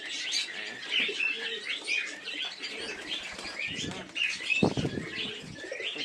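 A pigeon flaps its wings as it flies up, heard close by amid chirps and coos from other birds in a loft.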